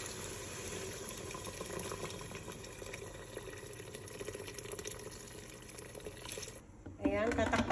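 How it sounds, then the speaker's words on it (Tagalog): Water pours steadily into a cooking pot already holding spices and black lemon for a macaroni dish, a continuous close splashing stream with a voice talking briefly near the end. "at ngayon i-add ko na yung water"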